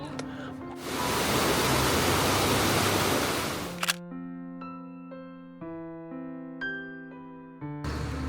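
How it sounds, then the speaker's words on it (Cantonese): A loud, roaring rush of water from waterfalls and a river in a Swiss valley fills the first few seconds and then cuts off, leaving music behind. "呢度比較著名嘅瀑布唔係 sell 宏偉嘅，而係俾70條瀑布包圍住，連埋河流嘅聲音非常之響亮啊"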